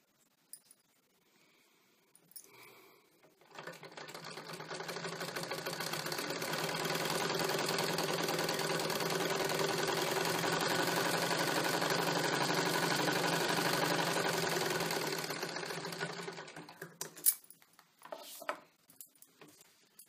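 An electric sewing machine runs steadily while stitching a single katori blouse, a continuous whirring hum of about twelve seconds that starts and stops abruptly, with a few faint clinks after it.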